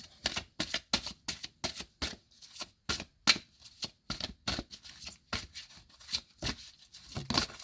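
A deck of cards shuffled repeatedly for a tarot-style card reading, producing a rapid series of crisp riffling bursts in a steady rhythm, close and clear with no talking.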